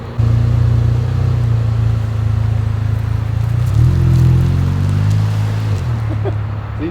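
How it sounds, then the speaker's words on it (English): A car's exhaust drones with a deep, steady rumble at idle, then the engine note rises and wavers briefly before settling back down. "A little bit of exhaust noise"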